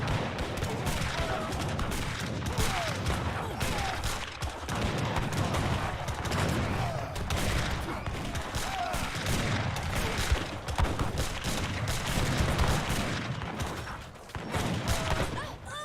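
Continuous volleys of artillery and gunfire in a team strategy game match, dense booms and shots layered throughout at steady loudness, with a commentator talking over them.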